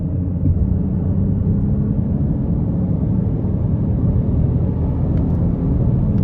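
A 2024 Nissan Rogue S accelerating hard on a road, heard from inside as a loud, steady low engine and road roar that holds throughout.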